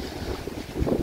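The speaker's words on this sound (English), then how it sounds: "A bit windy today." Wind gusting across the open shore of Rutland Water lake, a steady low roaring rush with buffeting swells that grow stronger toward the end.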